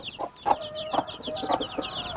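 Sultan chicken chicks cheep in quick, high, repeated peeps close by, a busy chorus of small birds with a few soft clucking notes mixed in.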